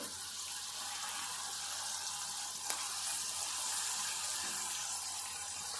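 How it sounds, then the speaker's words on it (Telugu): Bitter gourd pieces frying in oil make a steady, even sizzling hiss close by, continuous with no talking. "ఇప్పుడు ఈ కాకరకాయ ముక్కలు ఇప్పుడు ఈ నూనెలో వేపుకోవాలి"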